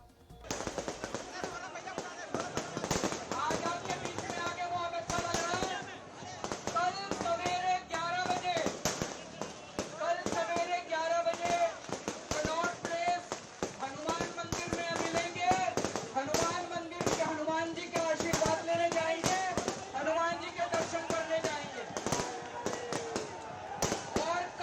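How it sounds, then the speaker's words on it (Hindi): Firecrackers set off during the summer season, heard as a dense, continuous barrage of sharp crackling pops and bangs, with voices and crowd noise running underneath throughout. "पटाखे चल रहे थे इस गर्मी के मौसम में"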